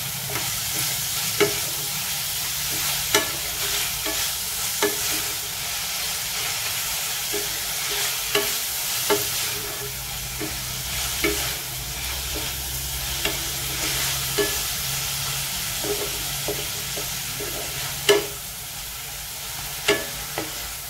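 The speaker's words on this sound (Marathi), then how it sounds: "कांदा आपला भाजलेला आहे." Onions fry in a pan with a continuous hissing sizzle, and a utensil stirs them with faint, regular scraping clicks throughout; no one speaks.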